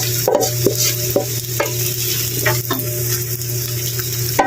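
Fried rice with egg and cabbage is stir-fried in a pan, making a loud close sizzle with repeated scraping and clacking of the spatula at an uneven rhythm, with no talking.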